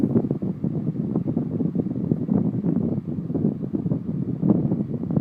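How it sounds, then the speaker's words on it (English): Wind from a Panasonic 12-inch oscillating desk fan buffets the microphone up close, making a steady, dense rumbling whoosh that stays constant and fairly loud throughout. "The wind is blowing the camera kind of, that's why it's shaking a little bit."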